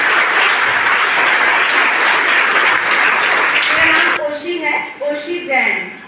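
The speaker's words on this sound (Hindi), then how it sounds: "मैं चाहूँगा कि आप लोग भी जोरदार तालियों के साथ में" Audience at a legal literacy event at a school academy applauding loudly for about four seconds; the clapping stops abruptly and a voice follows.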